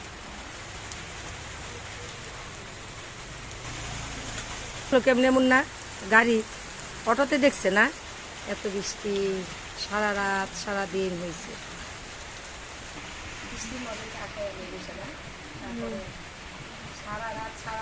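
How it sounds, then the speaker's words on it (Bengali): Heavy rain hisses steadily throughout, with voices talking briefly in the middle. "অনেক বৃষ্টি"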